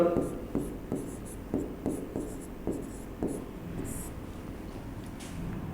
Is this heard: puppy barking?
no